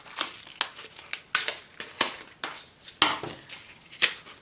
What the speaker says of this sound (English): I'm just going to cut open my seed package here.